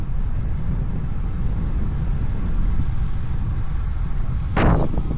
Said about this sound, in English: it's usually quite windy here because it's a bit of a valley, so the wind or the air just gets funneled through